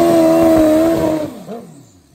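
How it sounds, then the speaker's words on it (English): A turbocharged Hayabusa drag racing motorcycle at a drag race event screams at high revs, a loud sustained tone that cuts off after about a second, leaving a fading roar and crowd-like rumble. "This is the Hayabusa turbocharged machine."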